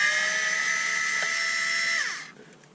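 A Bosch power drill whines steadily for about two seconds while backing screws out of a giant 6V lead-acid lantern torch, then winds down quickly to quiet; loud and close, with no talk.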